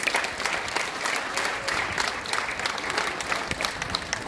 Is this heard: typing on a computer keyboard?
no